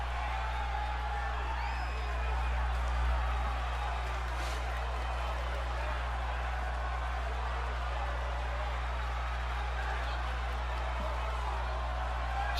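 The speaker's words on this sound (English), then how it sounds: "the crowd here is going wild" A wrestling crowd at an indoor show cheers and whoops in a continuous, fairly distant roar, with a commentator's voice over it.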